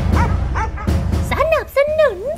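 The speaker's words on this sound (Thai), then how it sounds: "สู้กันด้วยเสียงเห่าจ้า" Dogs bark and yip in a close, loud exchange, several short bursts with whining, rising tones between them, while people talk over them.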